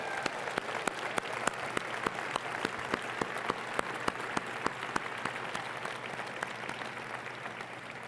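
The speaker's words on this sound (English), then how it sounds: "Please give them a resounding round of applause." An audience at an Apollo space-anniversary event with former astronaut Senator Harrison Schmitt gives a sustained round of applause. Many hands clap in a dense, even wash, with sharper individual claps popping through the whole time.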